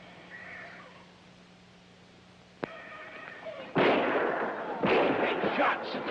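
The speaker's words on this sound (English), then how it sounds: "Shots from Gunther camp" Gunfire from a camp in the jungle: a sharp crack, then a burst of loud, rough blasts with a second volley, heard from a distance over background hum.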